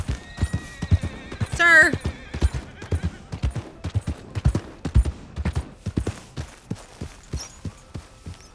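Horse hooves clip-clop in a steady rhythm in the Red Dead Redemption 2 video game, with a brief loud whinny early on; a voice speaks briefly over the hoofbeats.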